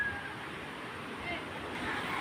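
Strong surf breaks steadily at a surfing beach during a rough-sea season, a continuous roar of waves with wind buffeting the microphone and faint voices in the background.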